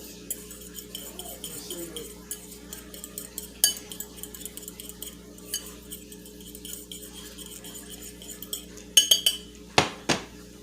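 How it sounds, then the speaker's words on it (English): A metal fork stirs a mixture in a bowl for parmesan-crusted pork chops, producing light scattered clinks and scrapes against the dish over a quiet hum, ending in a few sharper, louder knocks, with no talking. "And now taking my fork to stir everything all around"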